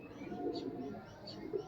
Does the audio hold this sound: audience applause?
no